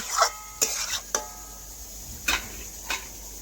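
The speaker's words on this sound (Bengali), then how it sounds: "নাড়াচাড়া করে ভাজা মশলাও মিশিয়ে নিচ্ছি" A spoon stirs fried spice mix into a paneer dish in a pan, giving a few scattered scraping clinks over faint background noise, with no speech.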